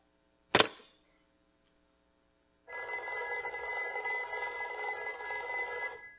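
A sharp thump is followed by silence, then an old telephone bell rings continuously and loudly in a live radio drama, with no speech over it.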